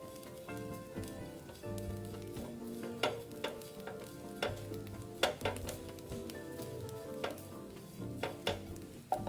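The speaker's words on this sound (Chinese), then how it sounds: "继续拌炒均匀" Preserved radish and garlic cloves stir-fried in oil for Chinese tea eggs: a steady close sizzle broken by repeated spatula scrapes and clanks against the pan, irregular and fairly loud, with no voices.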